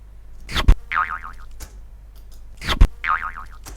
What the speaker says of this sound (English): this is the boing sound